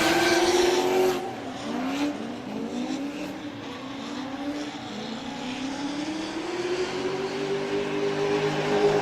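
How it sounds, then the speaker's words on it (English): A Corvette race car drifts through a grassroots qualifying run, its engine note rising and falling with long tire squeal, loud at first and then steadier, with no voices over it. "Absolute smoke show from the Corvette"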